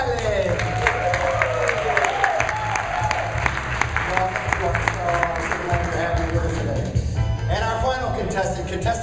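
Warm round of applause for a contestant at a real-estate agents' dating game event, with a room full of people clapping steadily and loudly throughout, plus a few scattered voices and cheers mixed in.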